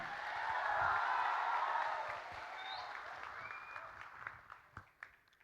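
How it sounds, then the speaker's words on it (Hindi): A room of listeners claps for the speakers at the close of a talk session. The applause swells briefly, then thins to a few scattered claps before dying away. "ताली है सबके लिए."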